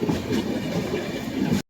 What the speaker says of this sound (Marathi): आमची ट्रेन आलेली आहे.